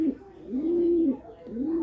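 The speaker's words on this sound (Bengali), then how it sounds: "দেখুন অনেক সুন্দর এক জোড়া কবুতর" A pair of Giribaz pigeons coo close by in soft, low, rolling calls, two or three drawn-out coos in a short burst.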